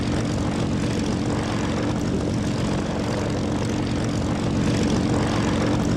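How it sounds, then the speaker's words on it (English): Propeller aircraft engine idling in a flight-sim game, running steadily and loudly throughout with a constant low drone and no pauses, the sound of an engine close to failing. "I think my engine's about to pack up. I've been sitting with it running, started making an odd noise now."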